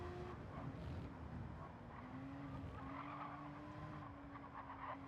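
A blue and white Ronald McDonald House Porsche races on track at Le Mans, its engine a faint, distant whine blended with tyre noise and the hum of other race cars.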